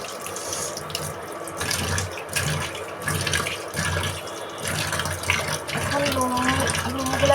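Household items are washed under a running kitchen tap, the water splashing steadily and loudly close by with shifting gurgles as things are rinsed, some faint background sounds mixed in.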